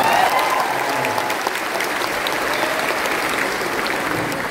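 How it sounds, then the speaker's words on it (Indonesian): A crowd applauds Aida at a public town-hall dialogue in Yogyakarta, a dense, steady wash of clapping that starts strong and stays even throughout, with no talk on top. "Tepuk tangan buat Aida."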